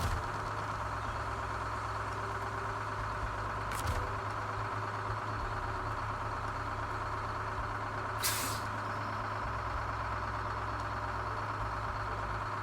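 A heavy truck in SnowRunner drives with a steady engine drone throughout, broken by two short, sharp hisses of air brakes released partway through.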